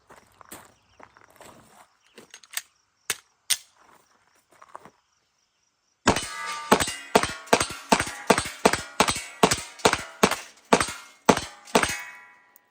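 Rapid pistol shots from a Glock 19-size frame ring off steel targets at an outdoor range, an even string of about a dozen sharp cracks, each followed by a metallic clang, after a quieter stretch of scattered faint clicks and a few distant shots.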